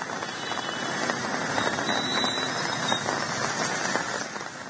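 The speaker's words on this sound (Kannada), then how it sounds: "ರಾಜಧಾನಿ ಬೆಂಗಳೂರಿನಲ್ಲಿ ಮಳೆಯ ಆರ್ಭಟ, ಭಾರೀ ಮಳೆಗೆ ಸಾಲು ಸಾಲು ಅವಾಂತರಗಳೇ ಸೃಷ್ಟಿಯಾಗಿದ್ದಾವೆ." Heavy rain pours steadily over Bengaluru, a dense, loud, continuous hiss of drops striking surfaces with no talk and no pauses.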